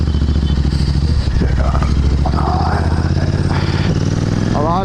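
A Royal Enfield Himalayan 450 motorcycle being ridden, its engine a steady, loud, close rumble with shifting pitch as it revs, while someone talks over it.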